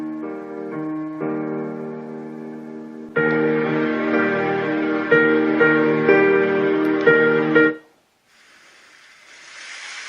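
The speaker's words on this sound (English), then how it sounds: "This is just a piano lullaby sound." A white noise machine's piano lullaby sound: soft, gentle piano notes play a slow, calm melody, growing a little fuller partway through before stopping abruptly.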